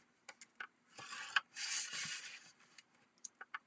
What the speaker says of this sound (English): we're going to score at 1 inch on all four sides